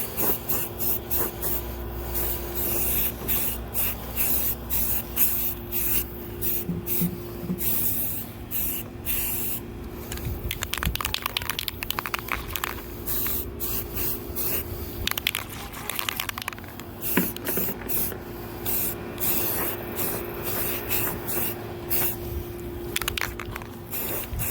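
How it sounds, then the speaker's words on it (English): Aerosol filler primer hisses steadily from a spray can onto a new 2003 Honda Pilot fender, in long continuous bursts broken by brief pauses, with a low background hum throughout and no talking. "Now this is the exact same stuff that I usually spray over Bondo."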